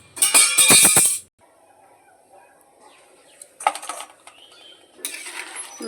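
A lid clatters onto a metal pot of katla fish curry, a bright burst of clinks up front, then quieter metallic taps and scrapes a few seconds later.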